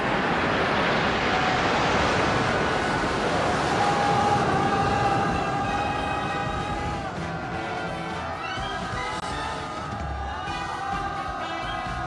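Seven fighter jets fly over Kim Il Sung Square during a military parade, producing a loud, sustained roar that stays heavy and even throughout, with a faint whine riding on top.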